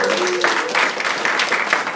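Audience at a startup pitch night applauding and cheering for the judges, a short burst of close clapping with a few whoops, loud and lively throughout.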